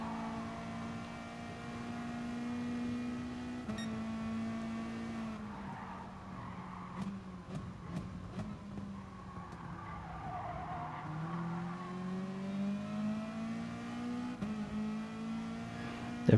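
A race car in Gran Turismo roars at full throttle with sustained loud engine tone, gear shifts dropping and climbing in pitch, and bursts of tire squeal and skidding, nearby and continuous.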